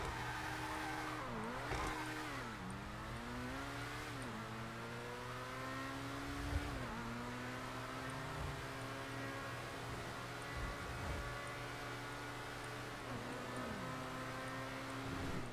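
Car engine revving and driving in GTA V, with gliding engine pitch rising and falling through gear changes over a steady low drone, loud and continuous throughout.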